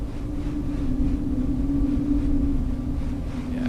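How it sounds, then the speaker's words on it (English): Airbus A320neo jet engines in the X-Plane 12 flight simulator video game produce a steady low rumble with a constant droning hum, unbroken and without talk. "Now we can just hear the nice engine sounds."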